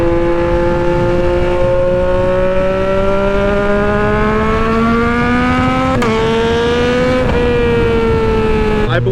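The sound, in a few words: Yamaha XSR900 or MT-09 three-cylinder motorcycle engine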